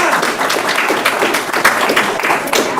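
Applause and cheering from a family group for a student receiving a superintendent's citation at a school district ceremony, a dense, lively burst of clapping throughout.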